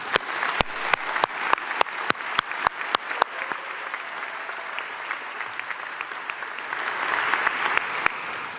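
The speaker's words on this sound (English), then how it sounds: "Applause, I think, is appropriate." A graduation ceremony audience breaks into applause, with sharp, regular claps close by standing out over a steady wash of clapping from the crowd that carries on throughout.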